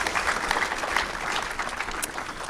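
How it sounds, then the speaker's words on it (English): Audience applause at a public forum on the Voice to Parliament, a moderate, even wash of many hands clapping that holds steady throughout without talk. "Yeah, a round of applause."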